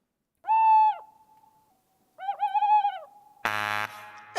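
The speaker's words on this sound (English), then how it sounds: "It is the tawny owl, yeah, exactly. That was a tawny owl" A tawny owl calling up close, a long wavering hoot followed after a pause by a second quavering hoot, then a burst of a different harsh buzzy tone at the end.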